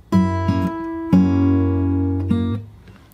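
Fingerstyle acoustic guitar playing a bar of a song, two sustained plucked chord phrases ringing out clearly, solo with no voice.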